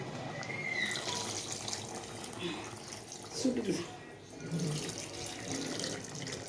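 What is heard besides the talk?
pouring tamarind water into cooking curry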